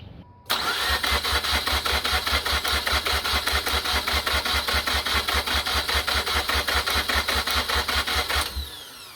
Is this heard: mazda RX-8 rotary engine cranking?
yes